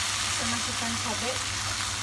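Chilies dropped into a hot pan for goat tongseng made without coconut milk sizzle and crackle steadily, close and fairly loud, with faint stirring and background voice tones.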